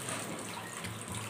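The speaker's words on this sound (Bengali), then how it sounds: "এবার আমি এতে হালকা হালকা করে একটু জল দিয়ে দেবো।" Cold water poured into a cooking pan of spiced plain-flour dish, a steady, faint watery rush with no breaks, heard alone and without talking.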